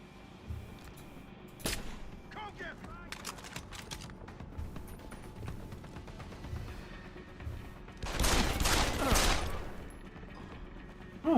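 Video game gunfire cracks out in scattered single shots, then a loud clustered burst of rapid shots near the end, over a low background of game noise.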